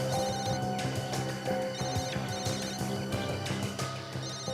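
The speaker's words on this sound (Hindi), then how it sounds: "सर आसपास से कोई आवाज आ रही है सर। हाँ, फोन की रिंग जैसी आवाज है।" A mobile phone rings nearby in a repeating electronic tone pattern, steady and fairly clear, with no talking over it.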